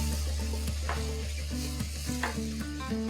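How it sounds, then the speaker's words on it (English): Tomato puree hitting sautéed onions in a pan for a winter palak and methi chicken dish, giving a steady close sizzle with bursts of stirring and spoon scrapes throughout. "Now I'm going to add tomato puree."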